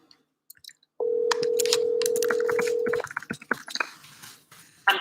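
A telephone call going through to voicemail: a single steady electronic tone holds for about two seconds, preceded and followed by faint clicks and line noise.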